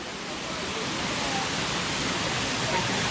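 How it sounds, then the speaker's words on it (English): Waterfall pouring into a pond near Luang Prabang, a steady broadband rush of falling water filling the whole clip at even loudness with no break. "So here we are in the waterfall pond."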